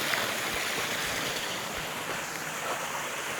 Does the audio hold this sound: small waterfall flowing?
yes